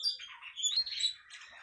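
Lovebird parrots in a cage chirp and squawk in quick, shrill bursts, close and fairly loud, with no one talking.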